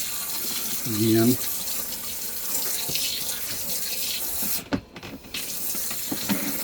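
A tap runs water briefly to rinse out a small RV washing machine, a short burst of flow near the start under steady background noise, with a person talking.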